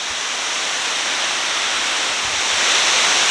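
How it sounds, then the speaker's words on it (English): Florida's highest waterfall pours down in a steady, loud rushing roar that swells slightly toward the end, with no voices. "So you're now looking at the highest waterfall in the state of Florida."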